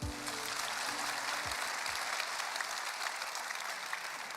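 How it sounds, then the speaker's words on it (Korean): An audience at a live heart-health talk clinic event claps steadily and evenly at a moderate distance, with no voices over it. "기대하시는 만큼 큰 박수 부탁드릴게요"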